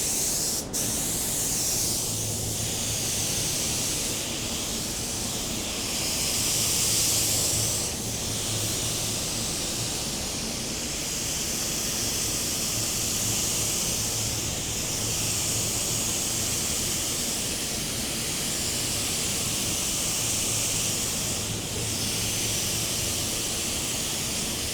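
A budget paint spray gun lays a second coat on a car, giving a loud, steady, close hissing spray that runs almost unbroken throughout, with only slight pulses in intensity.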